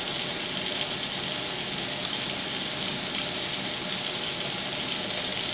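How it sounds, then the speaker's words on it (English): Steady tap water runs continuously into a sink during makeup brush washing, a constant close hiss with no talking. "we're going to wash a few brushes at a time"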